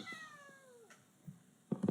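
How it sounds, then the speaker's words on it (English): A domestic cat meows nearby, a drawn-out falling mew followed moments later by a couple of short chirpy calls, fairly quiet in a still room with no talking. "I had a little interruption from my cat there"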